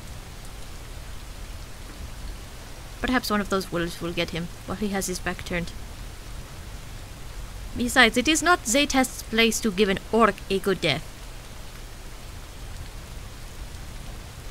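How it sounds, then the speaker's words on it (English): Rain falls steadily in a video game scene, a soft constant patter with a low rumbling bed beneath, while two voices talk over it in turn. "he's the one standing outside in the rain and the thunder."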